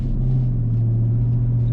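A Chevrolet Camaro ZL1 with a manual transmission, its engine holding a loud, steady low rumble heard from inside the car, with no talk.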